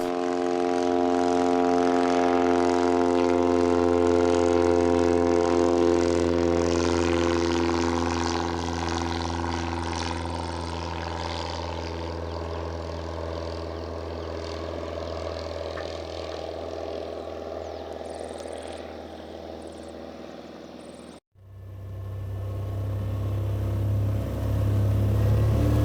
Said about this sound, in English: This is a very nice takeoff. You can see how much the downhill airstrip helps to get off the air quicker.